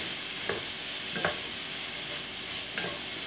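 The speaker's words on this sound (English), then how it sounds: "we're just gonna pan fry this until I know everything is nice and hot" Pot pie filling sizzles steadily as it is pan fried, with three distinct scraping stirs of a utensil through the pan at a relaxed pace, close and clear with no talk.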